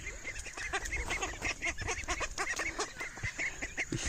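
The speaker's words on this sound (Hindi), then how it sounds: "ये सारी छोटी डक्स उस बड़ी डक्स को मारना शुरू कर दिए" Small ducks ganging up on a bigger duck, fighting with a steady stream of loud, overlapping honks and squawks close by, nearly continuous throughout.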